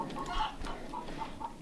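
Icelandic chickens in a winter coop pecking at handfuls of sprouts, giving soft repeated clucks and murmurs close by over a low background hum.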